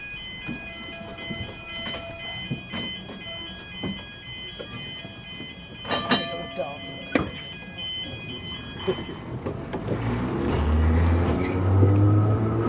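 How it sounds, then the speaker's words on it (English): Seaton Tramway narrow-gauge Tram 8 in East Devon, starting off with clicks and rattles before a rising rumble of wheels and motor builds toward the end, with people talking nearby. "We're going to take Tram 8 to Seaton."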